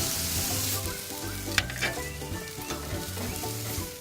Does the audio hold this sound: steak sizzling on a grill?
yes